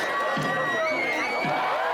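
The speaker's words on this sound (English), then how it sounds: "successfully spearing it got a huge cheer and applause" A crowd at the St John's Day fiesta in Ciutadella, Menorca cheers and shouts in a sustained, loud roar, with whoops rising above the din and no clear applause standing out.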